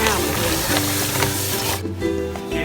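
Clams stir-fried with holy basil in a wok hiss and sizzle loudly and steadily, with faint scraping stirs, and the sizzle drops back for a moment near the end.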